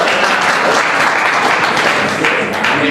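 Dense, steady applause from a large audience packed into a hall, clapping to cast votes in a quiz game, filling the whole stretch at close range without pause.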